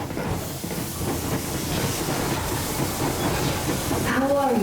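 Yermak steam locomotive moving in the video game Metro Exodus: a steady, close hissing rumble with a brief rising and falling tonal whine near the end.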